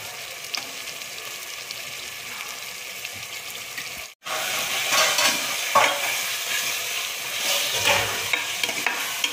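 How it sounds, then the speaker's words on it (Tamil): Chicken pieces, about 300 grams, sizzle and fry in a pot for chicken biryani while being stirred, a steady broadband crackle with scraping strokes, briefly cut off and then resuming louder and close. "இப்போ சிக்கனை போட்டுக்கிறாங்க"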